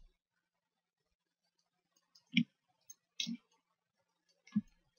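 A computer mouse clicks several times while a room is being modelled in 3D software, sharp isolated clicks spaced irregularly, close and clear against silence.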